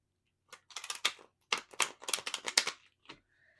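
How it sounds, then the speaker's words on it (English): Tarot cards being shuffled close up, in quick bursts of crisp riffling flutters separated by short pauses, with no talking. "So I will give you just a moment to do that right now while I'm shuffling."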